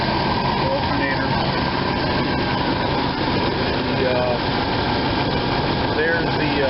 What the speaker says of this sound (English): Got the air pump running up there.